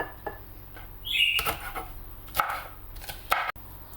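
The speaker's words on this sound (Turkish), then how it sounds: "İri iri verip biberlerimi doğruyorum. Çok ufaltmıyorum ama büyük de bırakmıyorum." Kitchen knife chopping green bell peppers into fairly large pieces on a cutting board, a few sharp, distinct close-up knocks spaced irregularly over quiet background.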